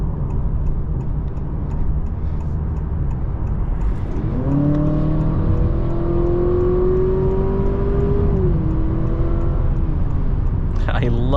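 A synthetic sport-mode engine note in a 2024 Honda Accord Hybrid rises in pitch as the car accelerates, a steady hum climbing and holding over cabin road noise, with a brief talking voice near the end.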